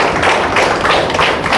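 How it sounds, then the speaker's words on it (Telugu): Loud, dense applause from a business meeting audience, many hands clapping together steadily and close throughout. "మా అప్లయన్ కూడా థ్యాంక్స్ చెప్పితే ఒకసారి గట్టి క్లాప్స్ ఇవ్వండి"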